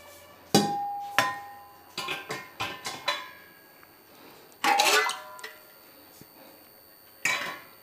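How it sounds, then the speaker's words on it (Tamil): Plates are set into the racks of a KORYO tabletop dishwasher, giving a string of sharp, irregular ceramic clinks and clatters, some sharper knocks, close by and without talk. "அந்த இடத்துல வந்து நம்ம பிளேட்ஸ் வச்சிடணும்."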